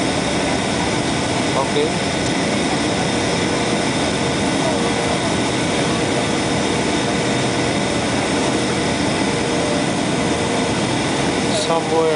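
Steady broadband roar of a United Airlines Airbus A320 landing at San Francisco International Airport, heard from inside the cabin as a constant loud engine and air rush throughout, with a brief spoken word near the start.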